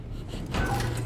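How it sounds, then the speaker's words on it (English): A door sliding open behind the player in SOMA: a brief mechanical whoosh that swells midway and ends in a low steady hum, fairly loud and close, with no talking. "I knew I heard the door open behind me."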